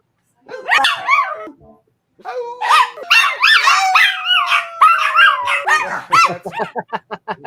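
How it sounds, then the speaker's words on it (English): A big dog barks from downstairs in a series of loud, echoing yelps and howling barks that build into rapid repeated calls toward the end, with no talk over it. "My big dog is down there. I can hear him downstairs."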